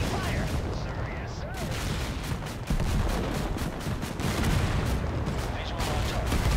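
Gunfire in the Total Conflict video game rattles in dense, overlapping bursts and booms at close range, with a voice speaking over the battle.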